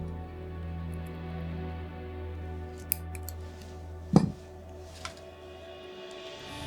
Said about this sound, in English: and snip that.